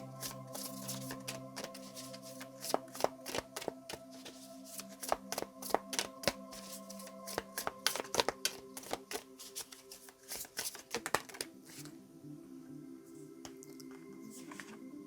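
A deck of tarot cards is shuffled repeatedly in quick, crisp riffling bursts close by, with a steady background hum under the papery flicks and a quieter stretch near the end.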